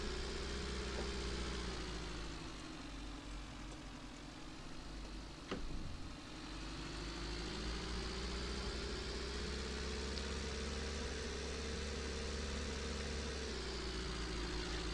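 Pickup truck engine in a simulator game, newly rebuilt and climbing hills, runs as a steady, continuous low droning hum throughout, with a brief click near the middle and no talk over it.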